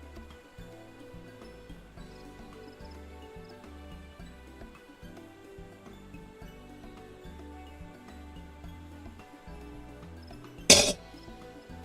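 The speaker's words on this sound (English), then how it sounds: "Apologies, just had to cough for a moment." A single sharp cough bursts out near the end, close and loud, standing out over a steady low background of fantasy game music from Final Fantasy XIV: Endwalker.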